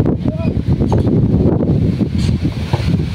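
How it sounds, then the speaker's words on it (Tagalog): Strong mountain wind blusters outdoors, a steady rough rumble with gusty rustling through trees and grass, close to the microphone and continuous throughout. "Grabe yung hangin."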